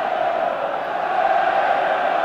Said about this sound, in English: And a great buzz of excitement all round this ground already.